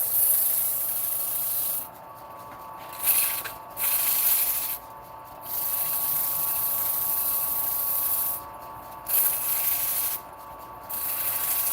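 Sanding a surface by hand, with steady close abrasive rubbing that runs in long continuous passes and is broken by several short pauses, alone with no talk.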